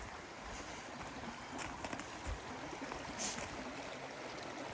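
Creek water flowing at a dispersed backcountry campsite near Barlow Creek, a steady soft rushing wash heard close by, with a few faint knocks.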